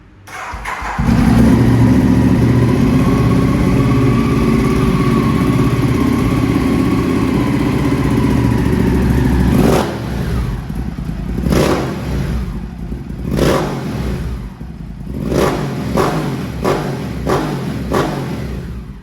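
A Ducati Diavel Carbon engine in poor condition starts and idles loudly and steadily nearby, then the rider blips the throttle several times in short revving bursts.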